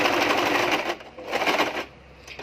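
A sewing machine runs a double line of stitching on a princess-cut nighty, a close, continuous whirring rattle that eases off briefly and picks back up.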